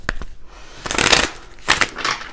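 A deck of tarot cards is shuffled by hand in several quick riffling bursts with short pauses between, close and crisp, with no talking.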